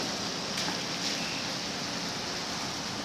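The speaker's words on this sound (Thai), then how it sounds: "ฝนตกปล่อยๆอยู่นะคะเนี่ย" Steady rain pours down, a dense, even hiss of falling water with no voices, close and continuous throughout.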